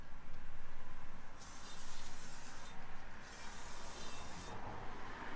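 High-pressure parts cleaner is sprayed onto a rusty, grimy car wheel before painting, heard as three loud hissing bursts up close, separated by brief pauses, with no talking.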